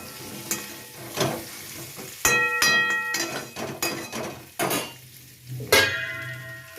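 Pointed gourd fries in a pan in a Bengali home kitchen, with a steady sizzle and repeated scraping and stirring clatter of a utensil against the pan, including a few louder metallic knocks.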